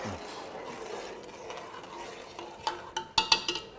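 Food stirred in a cooking pot after lime juice is added, with soft scraping and a faint sizzle, then a cluster of sharp metallic clinks of a spoon against the pot near the end.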